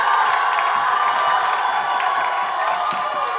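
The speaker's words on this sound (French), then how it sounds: "On va applaudir en poussant des cris de joie." Children on a TV show applauding and cheering with joyful shouts: a loud, dense crowd roar of clapping, whoops and high voices, sustained and even throughout.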